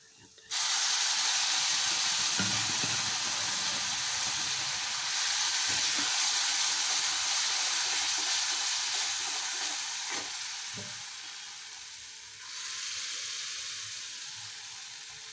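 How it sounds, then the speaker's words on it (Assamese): Potatoes and turmeric sizzle and hiss loudly in a hot pan in a home kitchen, a continuous frying roar with occasional scraping stirs, easing slightly toward the end. "তাৰপিছত এইখিনি অলপ লাৰি দিছোঁ"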